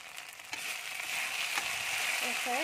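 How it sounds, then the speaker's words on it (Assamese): Mixed vegetables frying in a pan, a faint, steady sizzle with a couple of soft stirring knocks, and a brief voice-like tone near the end. "অলপ ভাজিম"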